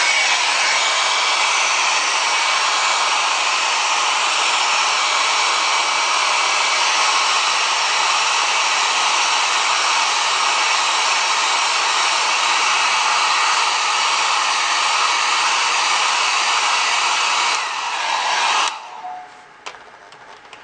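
A dryer blows steadily to dry a lab tank after an acetone rinse, giving a loud, even whine that stops abruptly near the end, followed by faint handling clicks.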